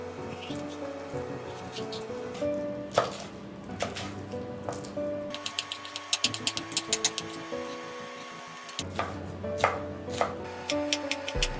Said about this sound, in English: Finely chop the red peppers